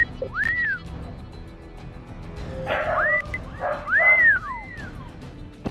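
A dog gives a few high, rising and falling whiny yips and barks, spaced irregularly over several seconds, fairly close and loud against a low background rumble.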